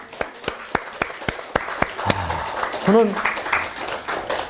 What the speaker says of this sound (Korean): 우리 하나님께 박수 한번 치십시다.